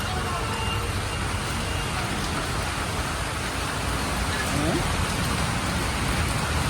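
Steady, dense rainfall hissing continuously, heavy and close, with no breaks.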